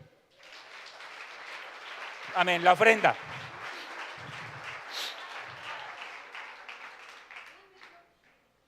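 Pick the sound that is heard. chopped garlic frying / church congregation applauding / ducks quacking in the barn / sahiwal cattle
church congregation applauding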